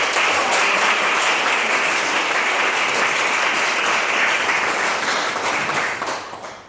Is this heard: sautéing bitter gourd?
no